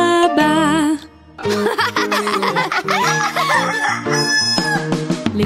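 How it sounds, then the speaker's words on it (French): A cartoon farmyard rooster crows at the start of a French children's song, one loud close crow followed by bright, bouncy music with sung melody. "Le coq se réveillera"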